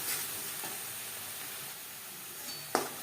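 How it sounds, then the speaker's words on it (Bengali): A ground spice paste with turmeric sizzles and is stirred in a hot pan for a vegetarian ridge gourd curry, giving a steady frying hiss with occasional close scraping strokes. "মশলা বেশ ভালো করে কষিয়ে নেব।"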